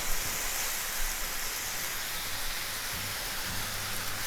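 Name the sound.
bacon sizzling in a frying pan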